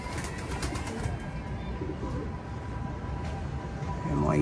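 Pigeons coo softly around a homemade feeder outdoors, faint and intermittent beneath steady background noise and a low rumble, with no clear speech.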